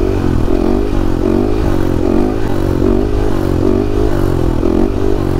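A big four-stroke motorcycle held up on a wheelie, its engine a loud, steady, close drone with a rhythmic pulsing throb and faint clattering, no voices.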